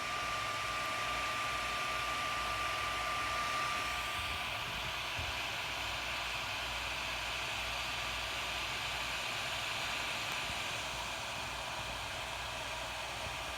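Ender 3 V2 3D printer with a BLTouch probe printing, a continuous airy fan hum with faint motor whine running steadily throughout, moderately quiet and unchanging.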